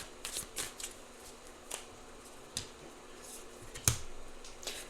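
Tarot cards being shuffled and handled close up, with a few soft riffling swishes and crisp card snaps spread unevenly across a quiet room, one sharper slap near the end, no talking.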